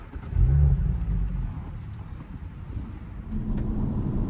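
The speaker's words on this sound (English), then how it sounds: "let's just go ahead and start the car up." A 2018 Audi S5 Prestige engine cranks and fires with a loud low rumble, then settles into a steady idle, heard close and without talk.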